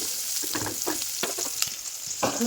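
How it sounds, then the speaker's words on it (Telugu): Green chillies frying in hot oil in a pan on a gas stove, a close, steady sizzle and crackle with a few stirring scrapes. "పచ్చిమిరకాయలు వేసి ఇంకా బాగా వేగనిచ్చేసాను కొద్దిసేపు"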